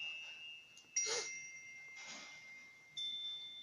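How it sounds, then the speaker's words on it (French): Faint bell tones ring out in a few soft, separate strikes, with sustained high shimmering notes lingering quietly in an otherwise hushed background. "Là, des cloches."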